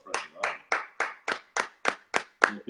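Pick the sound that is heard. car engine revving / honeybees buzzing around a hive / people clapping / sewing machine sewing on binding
people clapping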